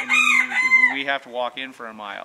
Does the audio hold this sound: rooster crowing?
yes